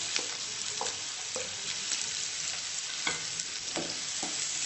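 Green chillies, ginger pieces and onion pieces frying in a pan, giving a steady close sizzle with occasional clinks and scrapes of stirring.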